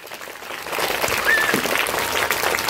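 Audience applause at a school Krishnashtami and Teacher's Day celebration, a steady wash of many hands clapping together for under three seconds without speech.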